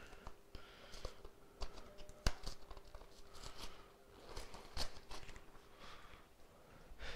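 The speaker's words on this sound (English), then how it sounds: "we're going to cut our sausage" A knife cuts sausage in a home kitchen, making quiet, irregular taps and slicing clicks against a board, close and faint.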